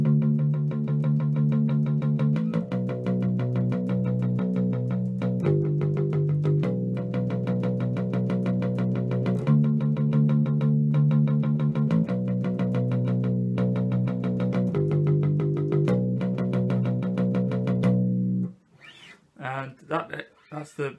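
Bass guitar plays a verse riff as a steady, repeating pattern of chugging notes with shifting pitches, loud and close, ending in a few scattered, broken sounds.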